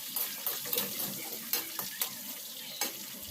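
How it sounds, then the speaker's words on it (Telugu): Two or three dried red chillies frying in hot oil give a steady crackling sizzle, broken by sharp, regular scrapes of a spoon stirring them, close up and without speech. "2-3 ఎండుమిరపకాయలు వేసుకొని వేగించుకోవాలి"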